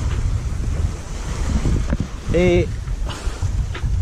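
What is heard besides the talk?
wind blowing at sea aboard a sailboat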